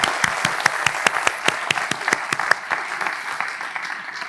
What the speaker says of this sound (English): Can we have a massive round of applause, please, for our quizmaster and all of the participants?